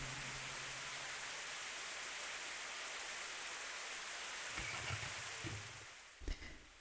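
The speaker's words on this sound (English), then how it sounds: "the sound of rain and thunder seemed to become distant, empty" Steady rain pouring in a dense, hissing wash that stays loud, then thins out near the end, with a few low thuds toward the close.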